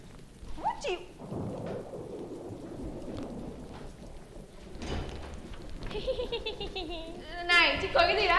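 Rain pours steadily while rolls of thunder rumble in, loud and close, with a sharp crack near the middle; people talk and laugh over the downpour throughout.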